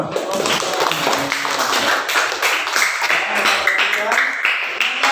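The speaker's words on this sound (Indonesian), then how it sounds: "beri tepuk tangan dulu" Students applaud together in a sixth-grade classroom during a lesson on negative integers, a steady burst of many hands clapping at close range, dense and continuous for several seconds with a few voices mixed in.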